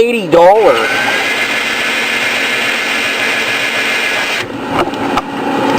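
A motorized case trimmer and deburring tool work .223 brass cases with a steady, loud, close whirring drone that runs almost unbroken, with a brief shift in pitch near the start and some clatter near the end.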